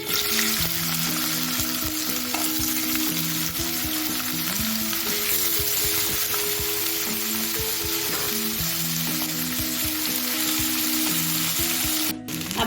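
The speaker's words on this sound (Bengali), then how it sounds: "এখন আমি মাছটা ভেজে নেব।" Prawns frying in hot white oil in a wok give a loud, continuous sizzle with occasional stirring clatter, holding steady for about twelve seconds before a brief dip near the end.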